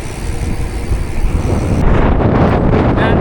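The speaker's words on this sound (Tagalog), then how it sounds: "ang lakas ng hangin" Strong wind roars and buffets the microphone with heavy, constant low rumble and gusting noise throughout, on a road trip through Quezon, Philippines.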